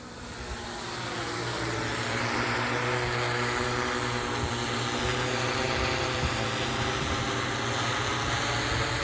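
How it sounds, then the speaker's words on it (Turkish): A drone running a VK V9 flight controller flies back toward its landing spot in an autonomous spraying test, its steady high propeller whine growing louder and holding as it nears, alone without talk. "Drone'umuz geliyor."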